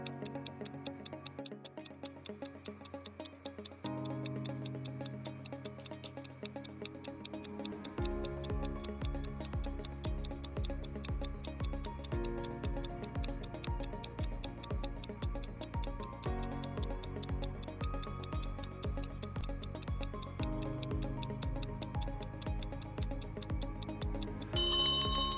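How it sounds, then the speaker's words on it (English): Countdown timer ticking steadily with rapid, even clicks throughout, over a looping musical backing that shifts every few seconds, ending with a brighter chime-like tone. "timer starts now."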